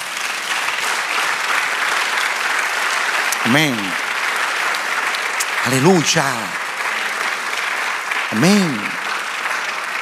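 A church congregation applauds steadily in a dense, continuous wash while a preacher calls out short exclamations over it three times.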